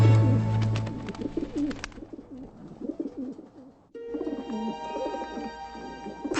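Pigeons coo in soft, repeated rounded calls during courtship, a steady rhythmic series heard close up, with a brief quieter stretch midway before the cooing resumes alongside other faint bird sounds.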